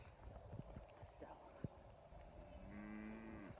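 A cow on a rotationally grazed pasture during calving season gives one drawn-out moo near the end, rising over faint rustling and soft thumps.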